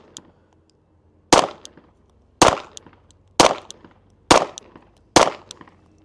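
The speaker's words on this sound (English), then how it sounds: "you shoot your handgun" Five sharp handgun shots fired at a shooting range, evenly spaced about a second apart, each a loud close crack with a short decaying tail and quiet between shots.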